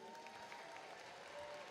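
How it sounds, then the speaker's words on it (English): Faint applause from a commencement ceremony audience, a soft steady patter of many hands sounding distant and low in level, with a thin tonal hum running beneath it. "Let's give a big round of applause for Dr."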